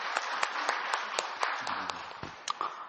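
A church congregation applauds at a year-end Sunday service, a steady wash of many hands clapping at moderate volume with a few sharper claps standing out, and a voice briefly audible underneath.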